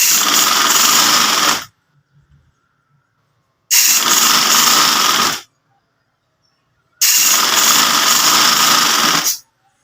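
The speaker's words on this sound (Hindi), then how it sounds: "इसको हम नीचे से सिलाई फोल्ड करके एक बूट की सिलाई लगाएंगे।" Sewing machine stitching the folded hem of a shalwar in three loud, close bursts of rapid mechanical whirring, each about two seconds long, separated by near silence.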